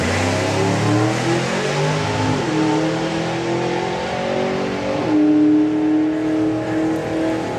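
A hot rod drag car launches down the strip at the NSRA Hot Rod Drags in crisp morning air, its engine roaring loud and close with rising, shifting revs that fill the whole stretch.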